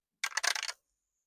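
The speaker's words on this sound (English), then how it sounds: "let's roll the dice" A single die tossed onto a hard surface gives a quick close burst of clattering rattles lasting about half a second, then silence.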